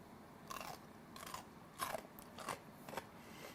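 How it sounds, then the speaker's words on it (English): Crisp crunching bites into homemade bread and butter pickles, five or so distinct close crunches spaced about half a second apart over a quiet background. "let's see if they have that authentic pickle crunch that we all crave"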